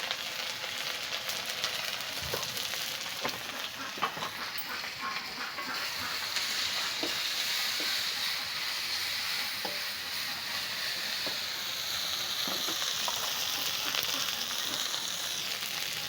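Garlic, dried fish and turmeric fry in a pan with a steady, dense sizzle, with occasional spatula knocks and stirring scrapes throughout.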